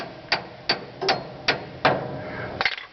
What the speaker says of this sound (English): And you just hammer that son of a bitch out